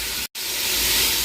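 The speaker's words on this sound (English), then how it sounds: "pork sausage, sizzle sizzle" Steady, loud sizzling hiss of pork sausage frying in a pan, broken by one brief silence near the start, then continuing evenly.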